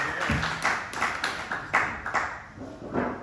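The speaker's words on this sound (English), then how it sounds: "Thank you for applauding when I came on stage." Comedy club audience clapping as a comedian walks on stage; a modest, fairly close round of hand claps in uneven bursts that thin out over a few seconds, no one speaking.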